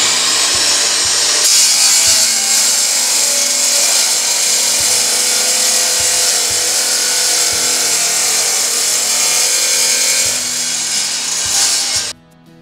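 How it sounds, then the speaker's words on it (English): A DeWalt 10-inch tile saw cuts through tile with a loud, steady, grinding whine. The cut runs unbroken for about twelve seconds before the blade stops abruptly. "Turn the saw on and cut."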